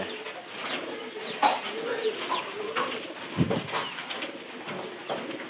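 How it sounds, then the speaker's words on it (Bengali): Domestic pigeons coo repeatedly at close range in a loft, soft throaty calls overlapping with a few faint chirps and a low steady background. "পায়রা আইতাছে"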